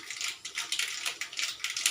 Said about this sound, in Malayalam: ഇപ്പോൾ കടുക് പൊട്ടി